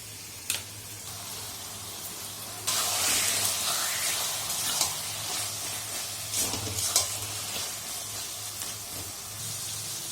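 Taro leaves hit a hot pan and break into a sudden loud sizzle that holds as a steady hiss, with stirring scrapes and a few sharper pops on top and a low hum underneath.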